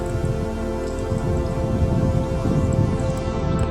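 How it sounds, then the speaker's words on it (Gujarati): Steady soft patter of light rain, a continuous even hiss of small drops close by with no voices. "થોડા થોડા સાટા તો આવે છે વરસાદના"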